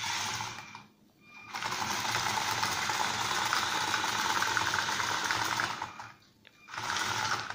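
The small motor of a child-built tracked all-terrain vehicle whirs steadily with a buzzing whine, cutting out briefly twice, then starting again.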